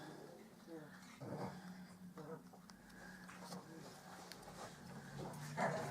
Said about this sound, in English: the dog's growling